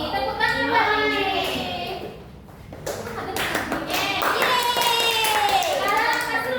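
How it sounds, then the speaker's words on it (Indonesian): Children clap their hands in a primary classroom, a burst of quick, close applause mixed with a teacher's and kids' voices. "Tepuk tangan buat Lili."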